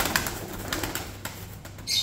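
Birds, likely pigeons, flapping their wings in a crate at a bird auction, a flurry of soft rapid wingbeats up close, fairly steady with a brief louder flutter near the end.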